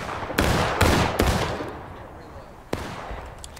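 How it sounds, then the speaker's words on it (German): Several sharp gunshots in the American Civil War video game War of Rights crack out in quick succession, then a lone shot after a short pause, with a faint voice underneath. "Aber ein gezielter Schuss aus der Distanz"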